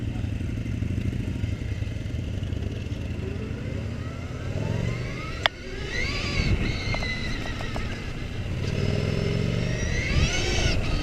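A Victory Empulse TT electric motorcycle spinning its wheel as it accelerates, its motor whine climbing in pitch in rising sweeps over road and wind noise, with a sharp click partway through.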